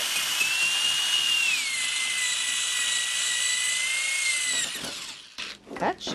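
A loud, steady high-pitched power drill whines continuously for several seconds while enlarging a hole in a dresser, then cuts off, followed by a few short rattling bursts.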